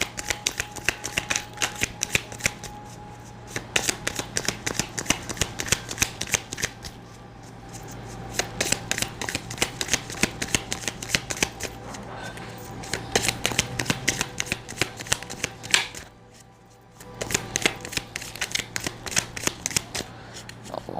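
A deck of tarot cards being shuffled over and over, with dense crisp riffling bursts that run almost continuously and pause briefly near the end; close and fairly loud, no talking.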